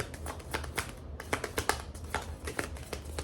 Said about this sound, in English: Really shuffling.